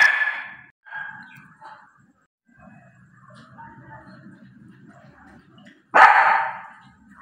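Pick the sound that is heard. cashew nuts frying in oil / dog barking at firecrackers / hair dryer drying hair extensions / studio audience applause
dog barking at firecrackers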